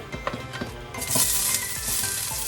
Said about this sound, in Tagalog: I have here the pot, and I add the oil, and I'll cook first the ginger